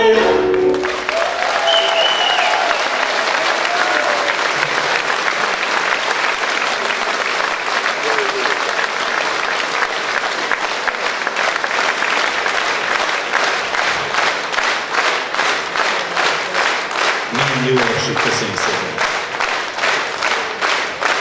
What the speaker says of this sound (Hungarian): Köszönöm a tapsot a Szilvia nevében